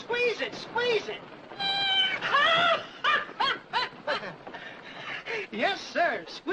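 A squeezed rubber novelty toy, a squalling cat, gives a run of loud, wavering meows and caterwauls, close and continuous, in an old 1948 western setting.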